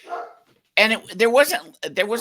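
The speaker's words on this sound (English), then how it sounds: "Sorry, my dog's mad that I'm on Twitch." A pet dog barks loudly and close up indoors, a few sharp barks in quick succession with short gaps between them.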